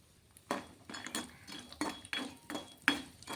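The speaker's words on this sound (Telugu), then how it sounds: "అలాగే పల్లీలు, కొన్ని పల్లీలు, అలాగే కొన్ని జీడిపప్పులు. మీ దగ్గర ఉంటే వేసుకోండి" Peanuts and cashews dropped into a pan with urad dal, mustard seeds and cumin while making garlic chili rice, giving a series of close, irregular clinks and rattles, about six distinct hits with brief scraping between them and no talk.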